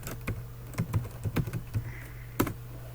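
Keys clatter on a computer keyboard as text is typed, irregular close clicks in short bursts with brief pauses, no talk.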